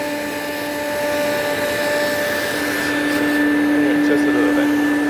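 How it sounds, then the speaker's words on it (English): A Quantum X water filtration upright vacuum cleaner runs close by, a loud steady motor whine with sustained tonal hums that grows slightly in strength over a few seconds, a voice briefly speaking over it. "I'm gonna show you how to turn on the vacuum"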